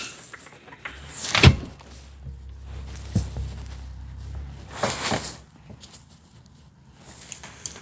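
A Fiat 500 facelift's car door is shut on a slight incline: a sharp clunk, then a softer knock and another closing thump, alone in a quiet outdoor setting.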